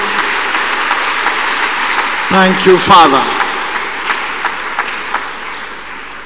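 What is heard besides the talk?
church congregation clapping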